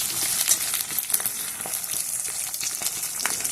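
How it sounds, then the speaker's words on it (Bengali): Slit green chilies and ginger fry in oil while being stirred, producing a close, dense sizzle with intermittent spatula scrapes throughout. "চেরা কাঁচা লঙ্কাগুলো দিয়ে আমি ভালো করে নেড়ে চেড়ে"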